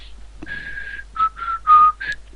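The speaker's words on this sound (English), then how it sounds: "Whistling loud." A person whistles a short tune loudly and up close, one long held note followed by several shorter bright notes in quick succession.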